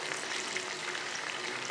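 Water poured into hot oil with a cumin tempering sizzles steadily in a pan, a bright continuous frying hiss with no breaks or voices, while rice is being cooked for daal chawal.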